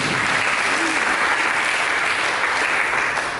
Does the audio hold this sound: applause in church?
yes